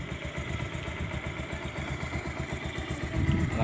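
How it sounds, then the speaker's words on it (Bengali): A motorcycle engine idles close by with a steady, throbbing low-pitched putter, revving slightly louder toward the end. "আমার সেই শখের বাইক এই"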